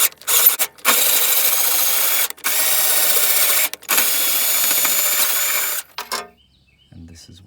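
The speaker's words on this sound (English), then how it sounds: "I'm comfortable using my cordless drill with a 3/8 adapter, and I'll be able to go in and out really fast." Cordless drill fitted with a 3/8 adapter backing out rusty hitch bolts: loud, close whirring bursts of a few seconds each, separated by short pauses, ending in a few clicks and quiet.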